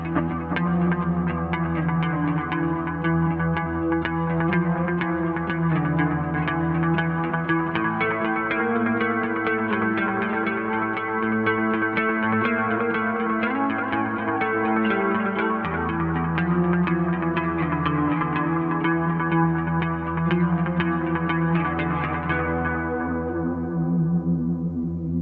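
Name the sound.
guitar through Boss DD-20 delay, Echorec-style analog echo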